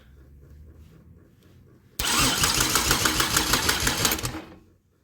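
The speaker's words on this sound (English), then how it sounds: "here's the Grand Am engine. I got the battery on the charger, got the cables hooked up, and I'm about to just turn her over." A Pontiac Grand Am engine on a charged battery cranks and fires abruptly after a quiet stretch, running loud and close with a steady, rapid chatter for about two and a half seconds before cutting off.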